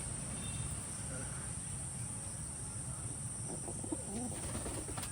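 Pigeons in a home loft, adult birds alongside well-grown young, with soft cooing and faint calls over a steady background hum and light insect-like buzz.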